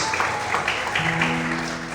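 A church congregation claps during a Sunday morning sermon, a moderate wash of many hands that stays steady while a sustained tone, likely an organ or keyboard, rises underneath.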